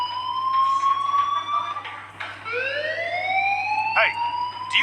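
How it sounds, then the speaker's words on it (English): In the video game Life is Strange, a fire alarm wails with rising, sweeping siren tones that repeat loudly and continuously over a low steady hum. "do you hear that fire alarm?"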